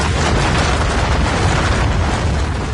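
A tornado striking steel buildings in an industrial complex sets off an explosion, heard as a loud, sustained roaring blast of broadband noise that stays heavy and unbroken for nearly three seconds.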